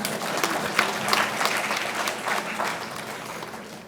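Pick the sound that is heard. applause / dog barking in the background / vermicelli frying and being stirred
applause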